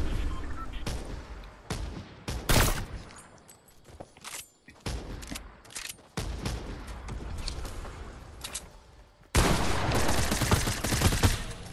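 Bursts of rapid gunfire and booming shots in the video game Fortnite, loud and close, come in repeated volleys separated by short gaps, with a sustained heavy barrage near the end.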